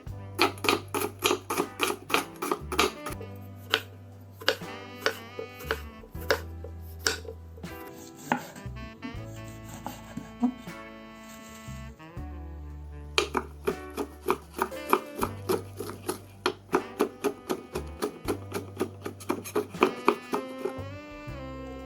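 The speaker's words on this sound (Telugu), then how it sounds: "ముందుగా కావాల్సిన వెజిటేబుల్స్ తరిగి పెట్టుకోండి." Vegetables chopped with a knife on a board for egg biryani: a steady run of crisp, evenly spaced chops with brief pauses, set against a continuous tonal musical backing.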